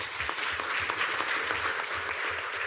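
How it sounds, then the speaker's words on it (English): Audience at a town council meeting breaks into applause, a steady dense wash of many hands clapping that holds evenly through the whole stretch at moderate loudness. "Please give them a round of applause."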